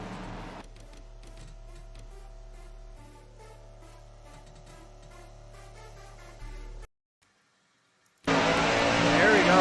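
Race car engine in the NASCAR Racing 2003 game during a replay at Darlington: a steady, droning engine tone holds for several seconds, cuts out to near silence, then returns as a loud, harsh roar.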